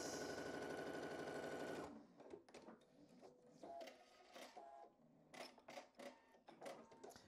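Sewing machine stitching quilt block pieces for a background block, a steady loud whirring run for about two seconds, then stops, followed by softer handling clicks and fabric rustles.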